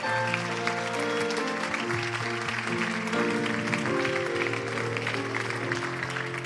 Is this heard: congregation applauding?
yes